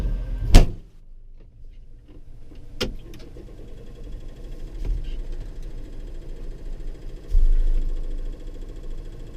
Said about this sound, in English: Let's try the slamming the door shut here.